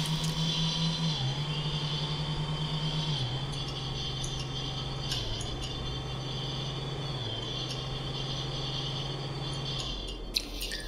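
A car in the video game Onset drives along with a steady engine drone that dips briefly in pitch every couple of seconds as it shifts, holding a constant level until it cuts off near the end.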